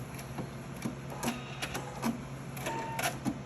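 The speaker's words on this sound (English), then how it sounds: "So I'm going to back stitch, and then I'm going to cut my threads." A sewing machine back stitches on a bonnet in several short, quick mechanical bursts separated by brief pauses, fairly quiet and close.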